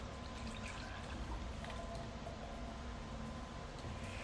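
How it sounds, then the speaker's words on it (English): Four cups of milk pour steadily into a bowl of six eggs, a continuous soft, even liquid stream at a quiet level with no break. "I'm gonna go ahead and add my 4 cups of milk"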